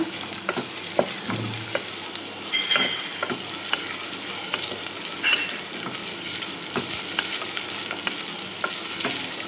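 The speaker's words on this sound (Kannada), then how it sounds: "ಇದು ಇವಾಗ ಆನಿಯನ್ ಚೆನ್ನಾಗಿ ಫ್ರೈ ಆಗಬೇಕು" Onion frying in a pan over medium flame for homemade ghee rice, a steady close sizzle broken by repeated sharp scrapes and clicks of stirring, with no talking.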